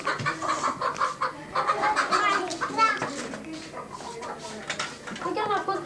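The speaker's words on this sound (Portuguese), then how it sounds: "Galinha fez isso." Chickens cluck and squawk close by in a 1980s family home recording from Rio de Janeiro, mixed with people talking and lively voices throughout.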